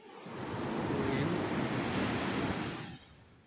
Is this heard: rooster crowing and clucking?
no